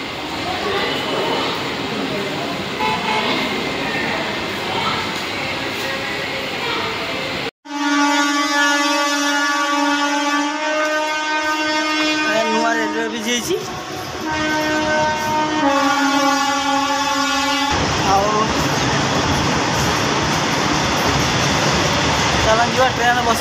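A train pulls in at platform 3 of a station, its horn blaring in a long loud blast with a broken second sounding, over rumbling wheels and crowd noise, with people talking nearby.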